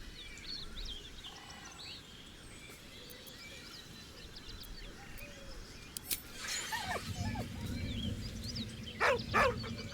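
In Baldur's Gate 3, a dog lets out soft whines and whimpers over a quiet ambient game soundscape, with a few sharper, louder vocal bursts toward the end.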